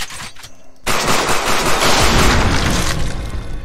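Rapid bursts of gunfire from a first-person shooter video game demo on a small map, loud and dense, with a short quieter stretch before the sustained barrage kicks in.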